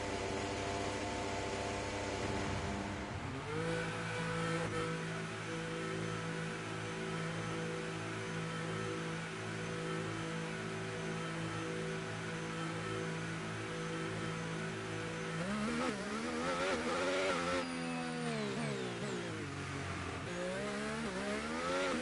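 The engine of an F1 car in the F1 25 game drones steadily as the car rolls out of the garage. A high, layered whine holds level, then rises and falls sharply as the revs climb near the end.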